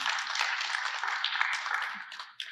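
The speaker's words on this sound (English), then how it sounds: "So you should give yourselves a round of applause for that." An audience at a short film festival closing ceremony gives a brief, dense round of applause, a continuous bright crackle of many hands that tapers off near the end.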